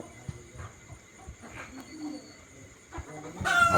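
Fayoumi chickens on a farm, including a seven-and-a-half-month-old hen, give soft scattered clucks under faint background talk, with a louder squawk at the end.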